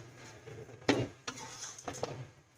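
A pan of chicken frying for palak chicken gets stirred, with a few scraping clinks of a spoon against metal over a faint sizzle, no voices.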